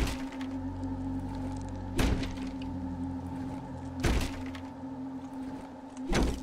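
A locked door in the video game Darkwood is beaten down: three heavy, resonant thuds land about two seconds apart over a steady low droning hum.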